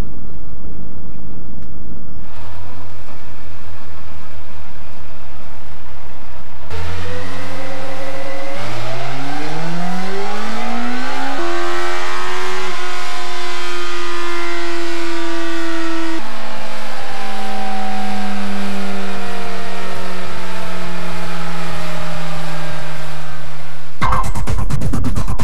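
A Yamaha Thunderace motorcycle engine on a mobile dyno, loud and close, idling and then revving up through rising and falling pitch sweeps before cutting off.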